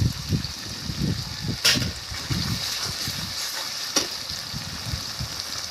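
Ginger paste dropped into sizzling onion and garlic frying in a pan for village-style masala mushroom, steady crackling sizzle with scraping stirring thumps and two sharp clatters, close and alone.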